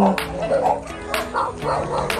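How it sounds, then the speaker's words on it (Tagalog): Several dogs bark near a grassy roadside in the Philippines. Quick, loud yaps and woofs come in uneven bursts and overlap one another. "Ang dami aso naman dito."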